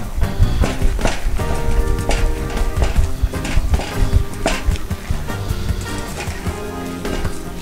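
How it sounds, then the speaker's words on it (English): Ugali made from farina being stirred in a pot, with a dense, loud run of scraping and thudding knocks from the spoon working the stiffening dough, close up and continuous. "So you keep on stirring."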